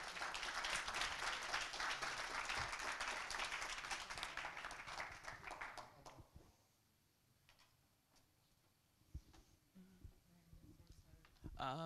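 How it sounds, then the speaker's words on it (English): Audience at a game-development talk applauding a speaker after questions, a dense burst of clapping for about six seconds that fades to a quiet room with scattered sounds and a few late claps, fairly distant. "should we just give Richard his round of applause"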